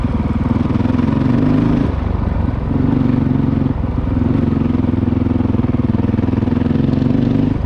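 Honda CRF450L dirt bike fitted with a Yoshimura RS4 exhaust, running loud and close with a steady throaty engine note that dips briefly at the shift into second gear before pulling again.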